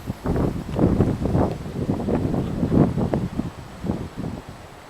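Gusty wind blasts across the microphone at Big Haynes Creek Nature Preserve outdoors, a close, loud series of rumbling bursts pulsing irregularly with no voices.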